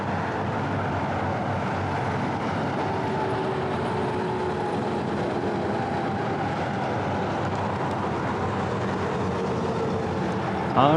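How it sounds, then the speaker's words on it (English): Road traffic beside a roadside pike fishing spot, a steady broadband rumble of passing vehicles running continuously and fairly loud, with a louder swell near the end and no talking. "we'll have a little bit of road noise to deal with"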